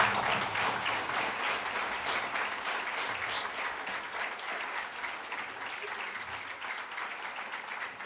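Applause from a congregation greeting a guest at an IECUSP church event, a steady dense clapping crowd sustained for about eight seconds at moderate level with no talk over it.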